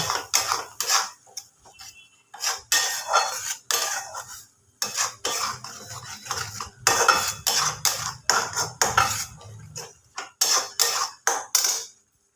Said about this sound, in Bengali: খুব ভালো করে এই মশলাটাকে কষিয়ে নেব